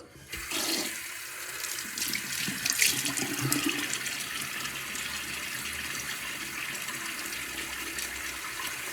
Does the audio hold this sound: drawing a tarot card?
no